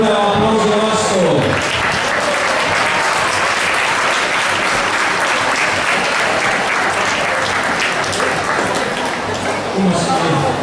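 A dense, sustained burst of audience applause greets dance couples at a senior dance competition final, loud clapping filling the hall for about ten seconds, with an announcer's voice at the very start.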